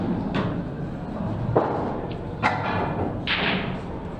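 Pool balls strike a table cushion during a competitive match, giving a few sharp, near thuds spaced irregularly over a steady low room background.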